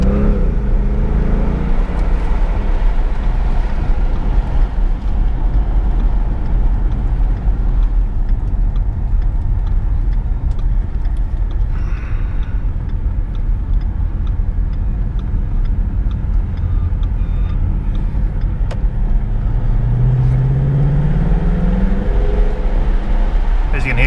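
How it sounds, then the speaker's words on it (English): A 2017 right-hand-drive Ford Mustang GT V8 cruising downhill, heard from inside the cabin: a steady low engine and road rumble with wind noise, quiet and constant, rising briefly in tone near the end. "Just cruising down the hill here, don't even know there's a V8, just a bit of wind sound."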